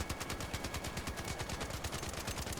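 The Tempest, a level 4 gun in the video game Arc Raiders, fires in a fast continuous automatic burst, rapid evenly spaced shots sounding loud and steady throughout.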